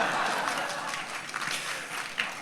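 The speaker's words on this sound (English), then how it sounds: "You can applaud on that one." Audience at a gala dinner breaks into applause, a dense, sustained wash of clapping from many hands in a large room.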